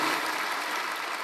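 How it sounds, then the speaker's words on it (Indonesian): A church congregation applauds together during a worship service, a dense, steady wash of clapping that fills the whole short stretch at even loudness with no voices over it. "Tepuk tangan lebih baik lagi."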